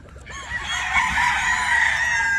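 A gamefowl brood stag crows loudly and close by, one long drawn-out crow that fills most of the short recording, with no talk over it.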